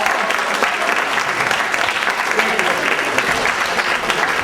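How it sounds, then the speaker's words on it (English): A seminar audience breaks into sustained applause, dense and even clapping filling the room at a steady loudness without letting up. "So give a round of applause for a wall."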